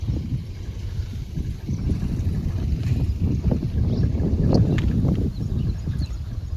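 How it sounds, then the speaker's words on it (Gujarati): A tractor pulls into a cotton farm field, its low engine rumble steady and fairly close beneath gusting wind, with no one talking. "ટ્રેક્ટર આવ્યું છે."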